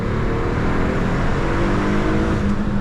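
A 2002 Alfa Romeo 156 GTA with its 250 hp engine pulls hard on the Autobahn, a loud steady drone with rising harmonic tones as it accelerates, heard close from inside the car.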